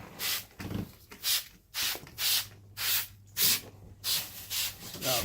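Repeated short hissing bursts of a spray nozzle applying cleaner to walls to remove nicotine, about nine in a steady rhythm, close by with brief pauses between.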